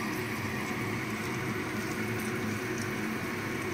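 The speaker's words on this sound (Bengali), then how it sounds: "বাদবাকি যে পকোড়াগুলো হবে সেগুলো এবার আমি আবার ওই গরম তেলের মধ্যে ভাজতে দিয়ে দেব।" Chicken pakoras frying in hot oil, a steady dense sizzle and bubbling that holds at an even level throughout with no voices over it.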